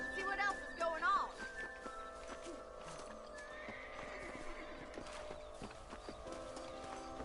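Horses in the Red Dead Redemption remaster on PS4 whinny loudly near the start, then hooves clip-clop steadily beneath continuous game ambience.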